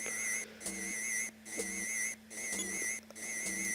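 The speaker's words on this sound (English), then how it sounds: "whatever this high-pitched sound is, it's what's causing the animals around here to go crazy" A shrill, high-pitched electronic tone in the game EarthBound Zero (Mother 1) pulses on and off in a steady repeating pattern, with faint low thumps and hiss underneath.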